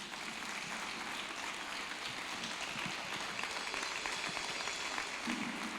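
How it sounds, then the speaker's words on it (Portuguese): Church congregation applauding during a Sunday worship service, a dense, steady wash of clapping filling the room for about six seconds with no voices over it. "Uma salva de palmas para Jesus."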